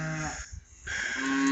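Cattle in a farm pasture mooing: a sustained, close, low lowing call that swells loudly across the clip with a short dip in the middle.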